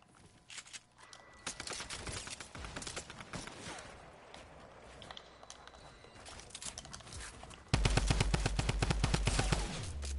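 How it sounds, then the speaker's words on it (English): Rapid automatic gunfire in the video game Fortnite aimed at the player, bursts of fast repeated shots building up and then growing much louder and closer for the final few seconds. "You're getting shot at, mate"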